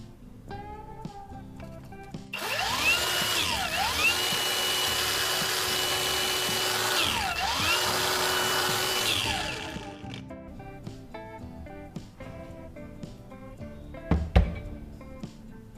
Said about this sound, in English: I'll sharpen this end to make it pointed.